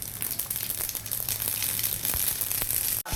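Mustard seeds crackle and fry in hot oil for the tempering of a bottle gourd lentil dal, a steady close hiss scattered with small pops that cuts off sharply near the end.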